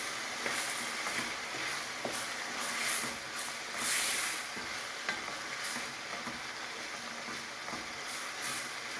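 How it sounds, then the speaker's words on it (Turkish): Peppers and tomatoes sautéing in a pan for a minced-meat pide filling, giving a steady soft sizzle with scraping stir strokes throughout, moderately close and with no voices. "İki dakika kadar kavrulan biberimizi domatesimizi de ilave ediyoruz"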